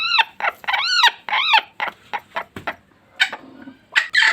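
Brooding hens sitting on eggs, close by, making a series of short, loud, rising squawks and clucks in quick bursts, followed by quieter intermittent calls.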